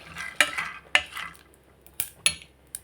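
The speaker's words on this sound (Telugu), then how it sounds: "చూడండి ఇట్లా నేను అన్నీ ఎండుమిర్చి అంతా వేసుకుంటున్నాను." A spatula clatters against a pan as dry red chillies and peanuts are roasted, giving several sharp metallic scrapes and knocks spaced irregularly, close and fairly loud with a faint dry sizzle between.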